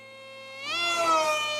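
RC plane with a Racerstar BR2406S 2600 Kv brushless motor on 3S swinging a 6x4 APC gas prop, a thin high-pitched motor whine that rises in pitch as the throttle comes up, then holds steady, close and fairly loud, with no talking.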